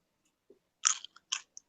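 Crunchy fried potato chip, freshly fried and salted, being bitten and chewed in a restaurant, a few crisp crunches in quick succession, close and fairly quiet with no talking.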